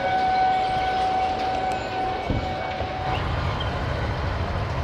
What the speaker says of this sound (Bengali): লাভপুর থেকেও ট্রেনের ডিপারচার হয়ে গেছে।